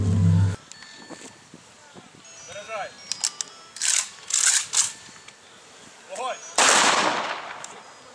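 Sharp rifle salute volleys ring out several times with pauses between, loud and outdoors at a Victory Day ceremony, with shouted load and fire commands and crowd noise in the gaps.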